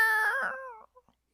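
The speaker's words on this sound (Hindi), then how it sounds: "आधी रात में उनके ऊपर एक बिल्ली आ जाती है।" A single drawn-out cat meow, fairly clear and close, trailing off with a couple of faint short sounds afterward.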